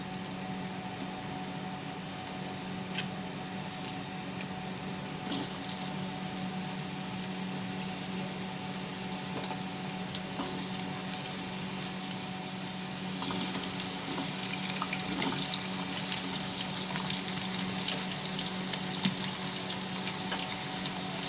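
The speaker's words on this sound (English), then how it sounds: "We are going to add these potatoes slowly into this oil." Potatoes frying in hot mustard oil, a steady crackling sizzle with scattered pops throughout, close and continuous with a low kitchen hum beneath and no talk.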